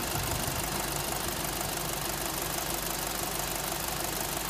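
A 2007 Volkswagen Passat B6 engine idles right after an oil change, giving a steady, close, even mechanical hum with a fine ticking texture throughout, with no voices.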